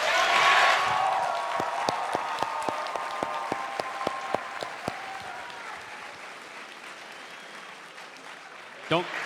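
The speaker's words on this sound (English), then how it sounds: "Give those guys another round of applause." Crowd applause at the QuakeCon 2015 Duel grand final, loud at first then thinning into scattered individual claps that fade out over several seconds, with voices talking underneath.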